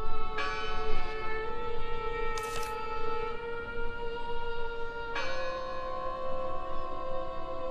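Church-style bell tolling in the Draugen video game, sustained ringing harmonics with a fresh strike partway through, loud and near over a steady ambient hum with no talk.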